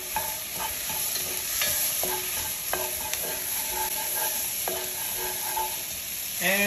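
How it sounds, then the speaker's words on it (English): Garlic, onions and celery sizzle in a soup pot for chicken noodle soup, a steady close frying hiss broken by scattered clinks and scrapes of a spoon stirring the vegetables, with no talk. "we're gonna cook the vegetable for 3 to 4 minutes here into our pot."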